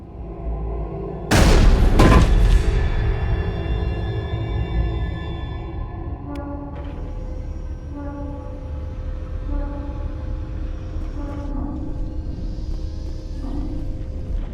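A single loud, sharp gunshot boom in the video game Mass Effect, on Noveria, cracks out near the start, followed by a low, droning rumble that lingers steadily for the rest of the clip.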